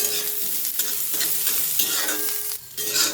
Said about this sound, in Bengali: বাদামটা ভাজা হলো মোটামুটি